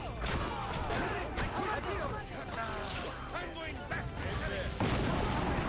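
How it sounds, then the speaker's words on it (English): Mortar fire in the video game Assassin's Creed Revelations: a string of booming launches and explosions under continuous talking, with scattered gunfire mixed in. "Also, we can do mortars, by the way."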